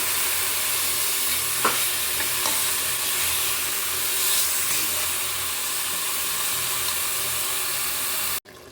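Ground paste fries in hot tempering oil for moth bean sambar, a steady, loud, close sizzle with faint stirring that continues evenly and stops abruptly near the end.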